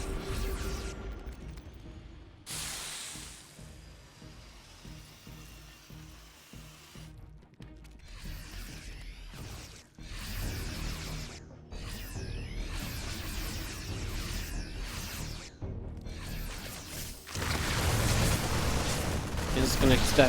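Widow Mine shots fire in a StarCraft 2 Terran versus Zerg match, sharp bursts scattered through busy battle noise, with a heavy blast near the end, all under continuous commentary.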